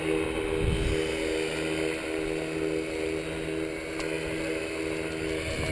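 Paramotor engine held at full throttle, a steady loud droning roar with a constant buzzing tone, continuous and unwavering throughout.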